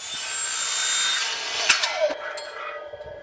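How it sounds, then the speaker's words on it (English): A circular saw fitted with a metal-cutting blade slices through aluminum reinforcement bars for a pool rail, giving a steady high whine that fades out, followed by a few sharp clicks and knocks. "we're going to cut the top and the bottom aluminum reinforcements"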